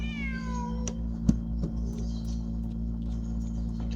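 Cat meowing in the video game Genshin Impact, a single clear descending meow near the start, close and distinct over a steady low electrical hum, followed by a few soft clicks.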